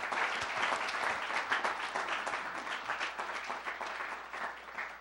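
Audience applause at a city State of the City address in Salisbury, a room of people clapping steadily for about five seconds, fairly close and even, slowly tapering near the end.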